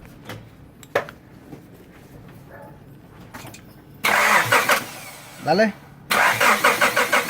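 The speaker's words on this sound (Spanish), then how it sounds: "Da cranky, pero no está" A 1994 Honda Accord with a 2.2 L engine cranks but fails to start. Two loud, rhythmic bursts of starter chugging follow a quiet stretch with a brief spoken word.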